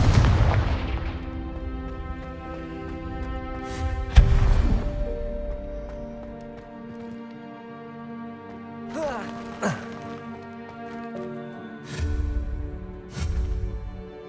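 Confringo spells fired in the Hogwarts Legacy video game set off a heavy booming blast at the start, followed by further sharp explosive bursts over a lingering tonal rumble. A few hits come in quick succession.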